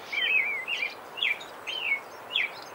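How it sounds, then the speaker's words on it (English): A robin in a garden with ivy gives a series of four or five short, high chirping phrases, clear and fairly close, with pauses between them and no voices. "He had followed her and greeted her with a chirp."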